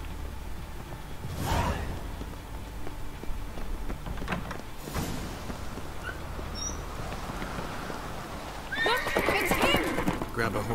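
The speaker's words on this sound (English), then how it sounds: "Grab a horse, we'll chase him down." Horse from The Witcher 3 video game whinnies loudly near the start, followed by steady galloping hoofbeats and a second neigh near the end, with game voices talking over it.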